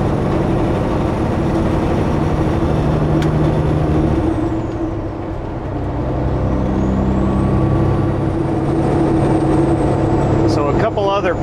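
A semi-truck's heavy diesel engine drones loudly and steadily through a gear shift, dipping in revs midway before climbing again, with an air-brake hiss near the end.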